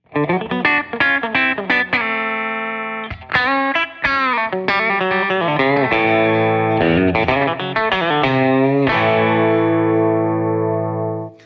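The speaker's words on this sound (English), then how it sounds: "you're gonna get a great chicken picking sound" Bright, twangy chicken-picking notes from an electric guitar through a Fender '62 Princeton Chris Stapleton Edition amp with a 12-inch speaker snap out in quick, clucking bursts, followed by sustained ringing chords, loud and close.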